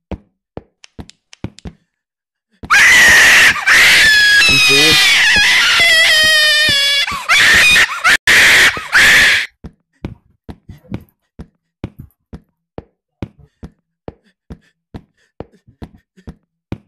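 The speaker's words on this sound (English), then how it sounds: "That dude is screaming his shit." Loud, harsh screaming bursts out in the Slendytubbies horror video game for several seconds, set between runs of sharp knocking and tapping thuds that continue afterward.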